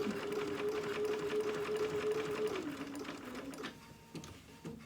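A sewing machine runs steadily, stitching a dog outfit with black thread, its motor hum holding a constant pitch before dropping lower and slowing toward the end, close and alone.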